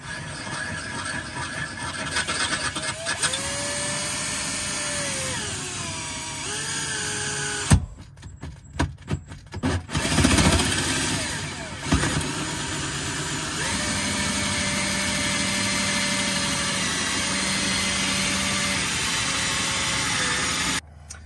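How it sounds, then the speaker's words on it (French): Power drill boring a hole inside a camper van to fit a water tank level probe, with steady motor whine, a pause of clatter and handling noise midway, then the drill running again alone. "Allez, c'est bon, le trou est percé."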